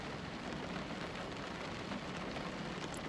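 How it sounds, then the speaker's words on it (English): Rain falls outside, a soft, even wash of patter heard from indoors, faint and unbroken for the whole stretch. "I don't know if y'all can hear that for real, the rain."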